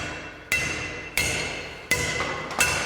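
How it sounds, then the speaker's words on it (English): Four heavy lump hammer blows ring out on a square steel tube resting on a big heavy tire, each strike sharp and metallic with a short ringing decay, spaced unevenly about half a second to a second apart, close and alone. "got a big heavy tire that we can lump hammer on."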